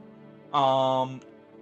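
A cat in a video game gives a single drawn-out, tonal meow of about half a second, clear against a quiet background.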